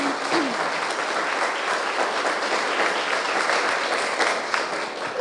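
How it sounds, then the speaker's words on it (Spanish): A church congregation applauds at a worship service, with steady, full clapping that holds at an even level throughout. "Un aplauso para el Rey."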